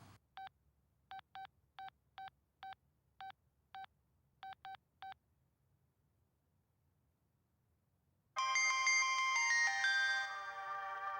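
A phone being dialed: eleven short, evenly spaced DTMF keypad beeps, clear and isolated against near silence, then a bright, loud ringtone melody starts and continues.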